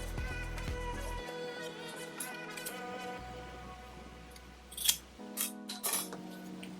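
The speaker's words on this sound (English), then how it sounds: "We're cutting them in half, so now we have 2 individual ones." Scissors snip through folded fabric to split it into two mask pieces, giving a few brief, close cutting sounds near the end over a faint background.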